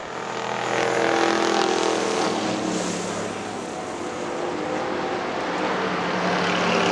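Factory stock race cars roar around Hartford Speedway Park, a loud continuous engine drone swelling and easing slightly as the pack passes, with no commentary audible.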